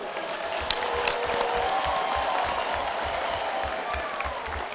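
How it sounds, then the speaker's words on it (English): A convocation audience at a university graduation ceremony in Kampala in 2015 gives sustained applause, a dense, even roar of clapping with a steady rhythmic pulse running through it, close and continuous. "give His Highness the Aga Khan the Ugandan applause"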